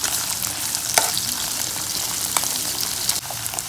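Sliced onions and green chillies fry in a pan with a constant loud hiss of sizzling oil, broken by a few sharp crackles and stirring scrapes.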